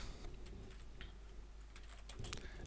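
Keystrokes tap on a computer keyboard as an IRC chat command is typed, sounding as quiet scattered clicks over a steady background hum.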